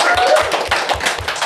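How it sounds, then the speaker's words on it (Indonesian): An audience claps at a stand-up comedy festival, a steady patter of many hands with rhythmic pulses close by and fairly loud throughout. "Tepuk tangan teman-teman"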